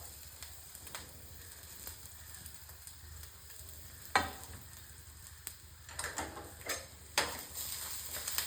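Grated coconut, garlic and curry leaves frying in coconut oil for a sambar tempering, a soft continuous sizzle with scattered pops and a few sharper crackles and stirring clicks, close and fairly quiet, no talking.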